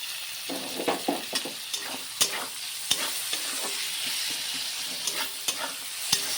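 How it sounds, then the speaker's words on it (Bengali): Chopped onions with green chillies and bay leaves fry in a pan for dal tarka: a steady bright sizzle broken by regular scraping taps of stirring, close and moderately loud. "পেঁয়াজটাকে ভালোভাবে লাল করে ভেজে নেব।"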